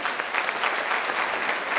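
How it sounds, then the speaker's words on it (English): A crowd applauds state legislators being recognized during a governor's computer coding tour at a high school. The clapping is brief, dense and steady throughout. "Give them a round of applause"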